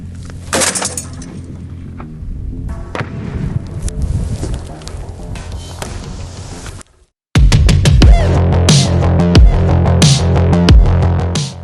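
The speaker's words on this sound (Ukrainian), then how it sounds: "Увага, постріл!" Loud, rapid bangs of an AGS-17 automatic grenade launcher firing from a closed position, a brief silence, then a heavier volley of repeated booming shots ringing out outdoors.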